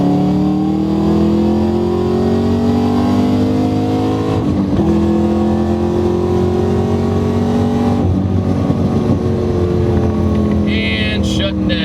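A Chevrolet Camaro ZL1 on staggered rear tires roars loudly and continuously up close, its engine note climbing through gear changes with short dips around each shift.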